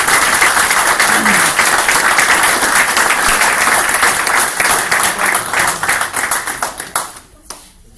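A crowd at an apprentice award ceremony in France gives loud, dense applause. The clapping holds steady for about seven seconds, then thins out and fades to a few last claps.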